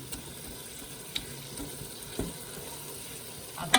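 Minced meat with spices and peas-style qeema fries in a pan, a soft continuous sizzle with occasional scrapes and knocks of a stirring spoon, close and fairly quiet.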